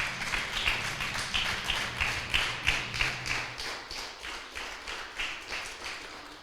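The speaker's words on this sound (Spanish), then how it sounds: "Denle un fuerte aplauso al Señor" A church congregation claps in unison, a loud rhythmic beat of many hands at a steady tempo, with a low instrumental hum underneath early on.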